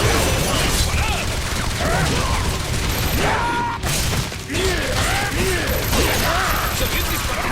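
Gunfire in the X-Men Origins: Wolverine video game, sustained bursts of shooting with crashes and thuds, under shouted voices.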